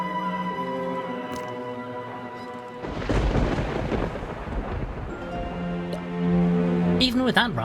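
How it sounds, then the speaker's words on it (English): A thunderstorm in the video game Lord Winklebottom Investigates: a deep rolling rumble of thunder builds over a steady musical drone, with rain-like hiss underneath. "there appears to be a storm coming in. We must make haste and get out of the island before it hits"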